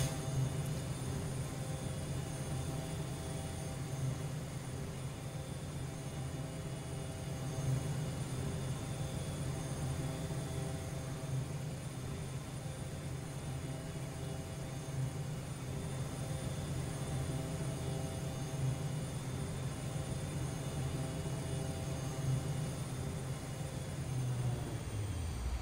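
Embraer EMB-314 Super Tucano turboprop cruising in Microsoft Flight Simulator X, a steady droning engine hum with a sustained tonal whine, unbroken for the whole stretch.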